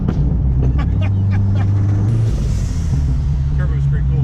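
Turbocharged Ford Fox Body SVO on the road: a loud, close engine rumble and drone heard from inside the car, steady throughout, with people talking over it.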